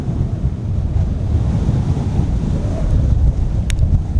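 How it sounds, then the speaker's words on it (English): A strong wind roars steadily on a hilltop summit in a national park, a dense, low rumbling buffet against the microphone that persists without a break. "Sheltering from the wind behind this tree here, it is just relentless, merciless, that wind."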